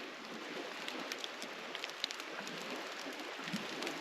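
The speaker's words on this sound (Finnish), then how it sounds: "Vettä sataa." Light rain pattering outdoors during a canoe trip meal in nature, a fine continuous patter with scattered distinct drop taps, fairly quiet and without talk.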